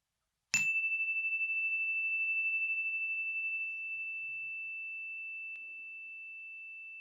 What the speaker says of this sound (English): bringing our awareness to the full length of the sound of a chime